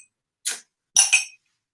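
Glass straws clink against a glass of water in a few bright, short taps, one single and then a quick double, crisp and close in otherwise near silence.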